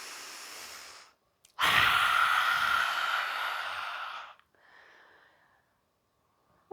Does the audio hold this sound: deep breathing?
yes